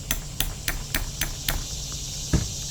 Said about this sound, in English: I am using a very light hammer and light taps